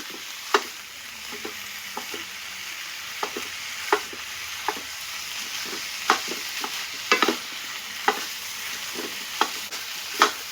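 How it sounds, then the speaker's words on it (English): Crumbled sausage browning in a pan for lasagna dip, a steady close frying sizzle punctuated by regular spatula taps and scrapes every second or so. "we're going to let it cook until the sausage is nice and brown"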